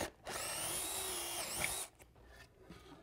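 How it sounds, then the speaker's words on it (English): Power drill boring through wood trim stock in a woodshop, a loud steady whine for about a second and a half, then cutting off to quieter shop noise. "So we've got a total of 6 areas that we need to drill all the way through."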